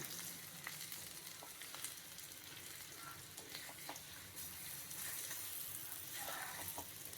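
Chicken kalmas in a rice flour coating frying in oil, giving a steady, fairly quiet sizzle with small crackles scattered across it.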